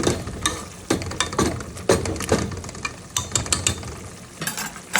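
A spoon stirs and scrapes a pumpkin and dried fish paste in a pan for a Sylheti shutki dish, with repeated close scraping strokes and soft clatter in an irregular rhythm.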